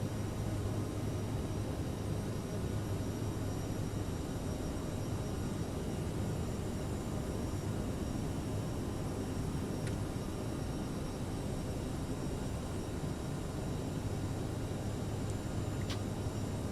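A Delta CRJ 700 regional jet climbs out of Atlanta at climb power, and its engines make a steady, loud, broadband roar that fills the cabin without letup. No one speaks.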